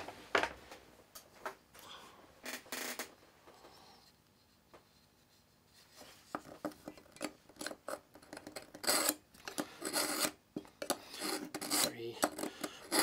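Kitchen knife pulled through a Smith's two-step sharpener in repeated quick rasping strokes, close and crisp, pausing briefly midway before a faster run of scraping passes.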